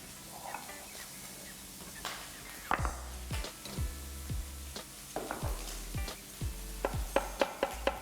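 Bacon frying in a pan for smoky chicken pies, a steady low sizzle beneath repeated stirring and scraping knocks that come in an irregular rhythm, close and moderately loud.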